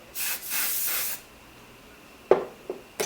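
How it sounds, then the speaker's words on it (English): Hairspray hisses out in two close bursts from an aerosol can, then a few soft rustles and taps follow in a quiet room. "kind of spray it a little bit"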